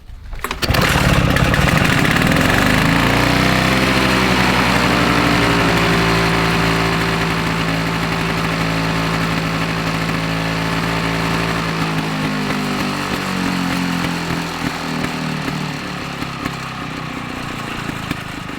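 Victa Pro 460 lawn mower engine starting on the first pull and running at a loud, steady roar, close up, the pitch settling slightly as it keeps running.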